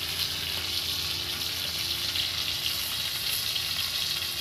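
Pointed gourd pieces sizzle and fry in a pan while being turned over, a continuous bright crackling hiss at steady close volume with faint stirring scrapes and no talking.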